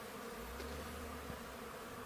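Honey bees swarming around a hive at a Newfoundland beekeeping yard: a steady, dense buzzing hum that fills the whole moment, even and continuous with no talking.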